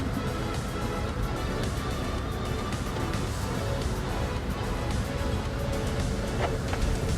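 A 2026 BMW X1 PHEV xDrive25e M Sport accelerates in sport mode, giving a dense, steady cabin rumble of drivetrain and road noise that holds evenly throughout.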